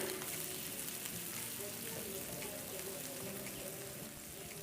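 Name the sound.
chopped onions sizzling in hot oil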